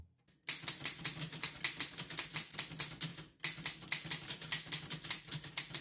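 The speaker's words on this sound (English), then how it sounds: "hunched over his Remington Rand typewriter." A Remington Rand typewriter is typed on at a fast, even pace, each keystroke a crisp mechanical clack heard up close. A brief pause falls midway before the steady rhythm resumes, with no voices.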